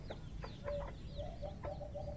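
Chickens and chicks clucking and peeping while feeding outdoors among banana trees, short chirps and soft clucks repeating close by over a low steady background hum.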